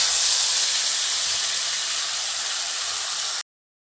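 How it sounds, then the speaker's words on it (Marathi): Ground spice paste drops into hot oil with cumin seeds and sizzles loudly as a broad, steady hiss, fading slightly before cutting off abruptly. "जे जिरे छान फुलले त्याच्यामध्ये जे वाटण केलं होतं ते टाकायचं"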